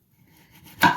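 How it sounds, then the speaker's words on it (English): A knife mincing garlic on a cutting board: one firm chop lands after a quiet lead-in, close and alone. "I'm just going to mince out the garlic now."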